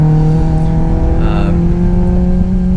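A car accelerating hard on the Streets of Willow race track, its engine a loud, close, sustained drone with steady harmonics, a short higher-pitched whine rising briefly partway through.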